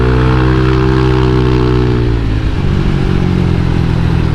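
A small new motorcycle engine making about 15 horsepower at the wheel revs hard on a dyno. The loud, close, sustained mechanical roar shifts pitch as the revs change, with no voices.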